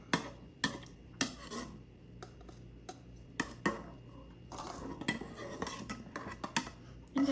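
Spoon clinking and scraping against a bowl while oregano is stirred into olive oil for a souvlaki marinade, a series of close, bright metallic taps and rubs at an uneven, unhurried pace.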